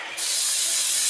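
Spray from an aerosol can hisses onto a 1968 Triumph TR250 during restoration, a close, loud, steady hiss that starts abruptly after a moment of quiet and continues unbroken.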